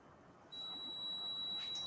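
A fridge door-open alarm sounds in a kitchen as a single steady, thin high-pitched electronic tone that starts partway in and holds, fairly faint, with no talk.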